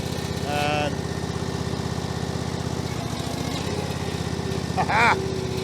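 A ride-on tractor engine runs steadily close by with a slight rise in revs while hitched to a Westermann ride-on brush, a continuous rough drone with brief chirps and clanks over it.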